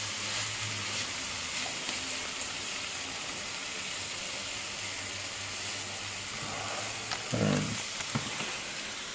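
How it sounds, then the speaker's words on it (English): Onion sweats in a hot pan with a steady broadband sizzle and hiss throughout, and a brief louder burst of frying noise near the end. "Nothing like a sweaty onion."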